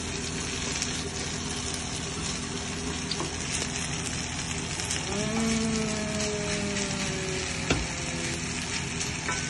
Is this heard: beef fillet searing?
yes